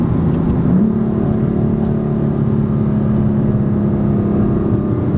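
BMW M4 LCI Competition accelerating hard in third gear, a loud, steady engine drone that holds close and constant throughout, with no voices over it.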